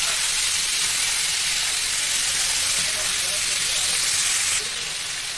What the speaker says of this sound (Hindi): इस तरीके से तेल में फ्राई करते हैं